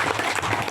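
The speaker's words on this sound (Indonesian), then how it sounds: "kita beri aplaus lah untuk yang tim perunding kemarin ya" Indoor audience at a union coordination meeting clapping for the negotiating team, a brief dense burst of steady applause close by, with no talk over it.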